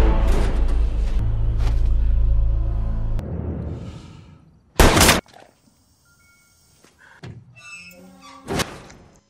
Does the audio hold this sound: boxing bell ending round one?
no